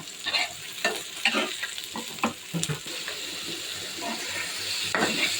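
Onions frying in a tiny miniature cooking pan for fish, a continuous close sizzle broken by frequent quick scrapes and stirring clicks of a small utensil.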